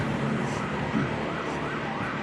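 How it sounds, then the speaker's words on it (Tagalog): An ambulance siren wails on a road in Real Quezon, its rising and falling tone faint and mixed into steady road and engine noise from a vehicle on a road trip. "Oh, may ambulansya pa."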